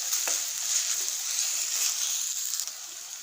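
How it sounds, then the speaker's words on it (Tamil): Ginger garlic paste fries with onions for Chettinad chicken gravy, a steady, fairly quiet hiss of sizzling oil with a faint stir or two, close and without speech. "இந்த இஞ்சி பூண்டு கொஞ்சம் வெங்காயத்தோடு நல்லா கலந்து வதங்குற அளவுக்கு வதக்கி விட்டுறலாம்"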